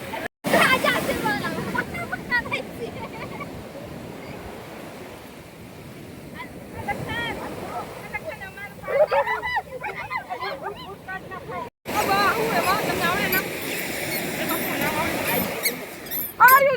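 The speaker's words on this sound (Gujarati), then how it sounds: "તમે જોઈ શકો છો દરિયો કેવો મોજા મારે છે" Sea waves surging at Chopati beach in Porbandar, with fishing boats nearby, roll in as a steady broadband wash with gusty wind noise on the microphone, while someone talks over it throughout.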